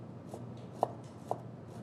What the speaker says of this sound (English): we're gonna chop